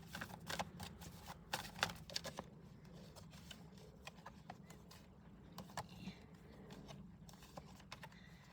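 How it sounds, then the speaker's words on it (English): Tarot cards are shuffled by hand in quick, crisp riffling bursts, louder at the start and then in softer scattered flurries, close up and fairly quiet, with no talking. "I'm sorry if the shuffling gets kind of loud"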